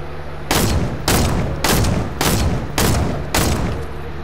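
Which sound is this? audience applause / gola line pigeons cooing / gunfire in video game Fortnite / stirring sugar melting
gunfire in video game Fortnite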